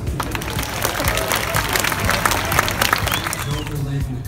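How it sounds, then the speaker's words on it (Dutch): An audience claps at the opening of an exhibition in the Rijksmuseum, a dense burst of applause from a crowd with voices mixed in, lasting the whole moment. "Applaus voor jezelf."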